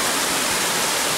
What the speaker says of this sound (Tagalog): Dahil sa sobrang daming tubig, malakas yung ano, malakas yung dating ng tubig.